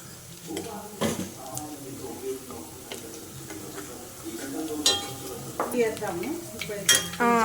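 Rice stirred with turmeric in a pan while making egg fried rice: soft scraping and stirring strokes with light sizzling, occasional sharper utensil clinks against the pan, and faint background voices.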